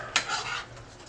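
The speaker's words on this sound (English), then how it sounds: "Stir it up just a little bit more" A quick metal scrape and clink of a utensil against a pan while chicken penne is stirred, one short sharp hit followed by a soft brief scraping, faint and close.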